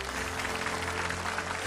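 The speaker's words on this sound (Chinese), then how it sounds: "掌声欢迎小王子来我们的节目做客" A studio audience at a children's special of a Chinese TV talent show applauds to welcome a six-year-old guest, steady dense clapping over a low hum from the hall.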